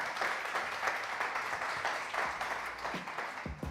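A crowd at a Biscay pintxo championship semifinal applauds a contestant, with continuous mid-level clapping from many people and a voice briefly cutting in near the end.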